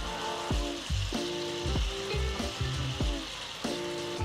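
Shrimp frying in a hot pan for a Cajun shrimp pasta, with a loud continuous sizzle and repeated scraping and clinking as the pieces are turned, no voices.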